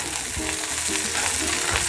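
Okra fries in a pan for sambar, with a loud, dense, steady sizzle and crackle filling the whole moment, close up and with no voices.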